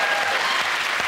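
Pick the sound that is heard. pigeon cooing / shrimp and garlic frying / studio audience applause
studio audience applause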